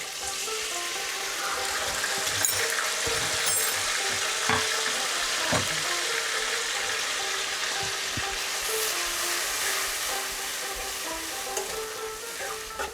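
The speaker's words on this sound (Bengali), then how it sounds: "মশলাটা আমি 2 মিনিট ভালো করে কষে নেব" Masala for a festive-style katla fish kalia fries in a pan with a splash of water, giving a loud, steady sizzle through the whole stretch, broken by occasional spoon scrapes and clicks as it is stirred, no voices.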